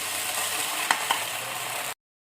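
Ground barley paste hitting hot tempering oil with cumin, mustard seeds and dried red chilies gives a steady close sizzle, broken by two sharp clicks of a spoon on the pan, with no talk.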